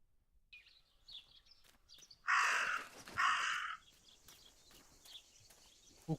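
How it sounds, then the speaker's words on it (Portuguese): A crow caws in a horror video game, two loud harsh caws back to back over faint background ambience, with softer calls and clicks before and after. "O corvo. Apareceu mais um."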